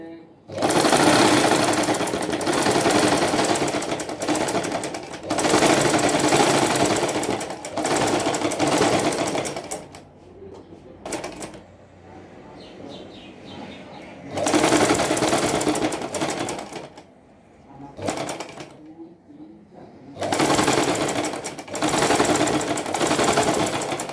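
A sewing machine stitches a boat neck collar onto fabric in loud, fast bursts of whirring and rattling, several runs separated by short pauses.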